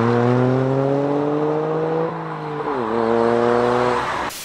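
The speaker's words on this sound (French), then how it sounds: "pour un 3 cylindres turbo, les amis, la ligne elle fait un max de bruit" Three-cylinder turbocharged Mini exhaust with a particulate filter holds a loud, steady drone, its pitch climbing slowly, dipping near the middle as revs drop, then settling again before cutting off.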